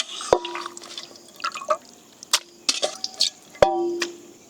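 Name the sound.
washed chicken pieces being added to a bowl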